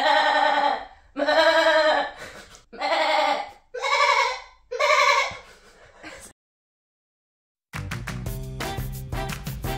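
A person imitates a sheep with five wavering bleats in a row, followed by silence and then a burst of different, brighter sound.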